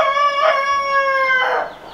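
Hens in a dry homestead chicken coop after a storm give a close, loud run of vocal calls, with a sustained crow-like cry in the middle and a louder burst near the end, with no talking.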